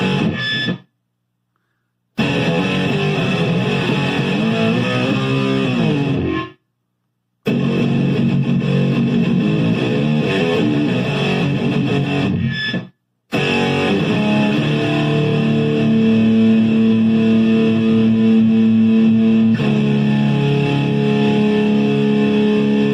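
Loud, sustained distorted electric guitar chords through a distortion pedal ring out in long passages, broken by a few brief silences, with gritty, saturated tone throughout.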